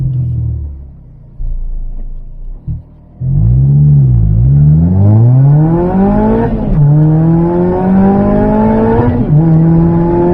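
A small 2-liter Mazda ND Miata with a supercharger accelerates hard through the gears, its engine note climbing and dropping at each shift, loud and close from inside the car.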